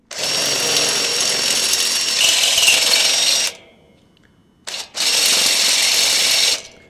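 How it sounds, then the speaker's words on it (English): A power drill bores a hole through a hollow metal gate frame, whining loudly and steadily for a few seconds, stopping briefly, then running again in a second long burst. "we're going to drill the upper hole with the same drill bit"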